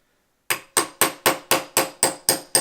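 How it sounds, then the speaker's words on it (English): A hammer drives a pin into an SB Tacticals AP5 folding brace, nine sharp, evenly spaced metallic taps that ring briefly after each strike, close and alone. "Let's see if we can just hammer this guy home now."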